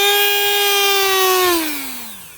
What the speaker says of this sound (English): I'm going to use a Dremel tool